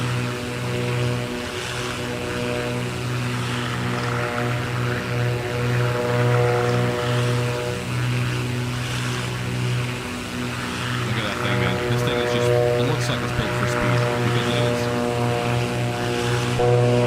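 Single-engine-style propeller drone of a BlackSquare B58 twin in Microsoft Flight Simulator 2024, cruising over St. Thomas; a steady, loud harmonic engine hum runs throughout with faint talk beneath.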